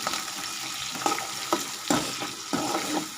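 Tomatoes frying in a pan for lemon rice, a steady sizzle broken by several scraping strokes of a spoon stirring them, close and moderately loud.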